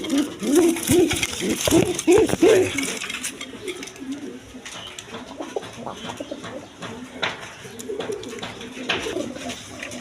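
A male Jed spring pigeon coos in a rolling, repeated call close by at the start, then fades to softer murmurs amid clinking and someone talking.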